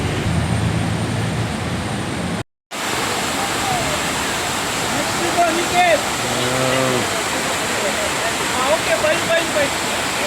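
Rainwater running down a hillside makes a continuous broadband rush, strong and steady for the whole stretch, with a brief dropout near the start and faint voice-like tones drifting over it midway.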